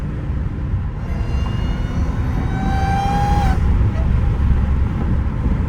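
Supercharger on a Dodge Hellcat Redeye whines as a rising high-pitched tone that climbs, peaks and cuts off abruptly, over loud engine rumble and exhaust noise close by.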